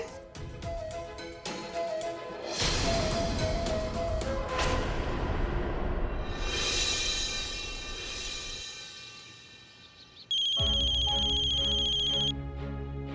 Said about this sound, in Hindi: भोला जी के फोन।